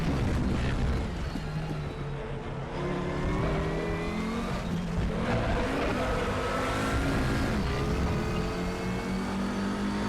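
Engine of an Audi TT RS VLN race car lapping the Nordschleife in RaceRoom rises and falls through downshifts and throttle stabs, a close continuous drone with tire and road noise and no speech.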